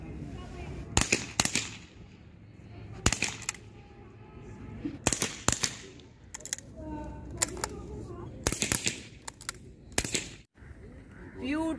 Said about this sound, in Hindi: इसको बोलते हैं फायरिंग।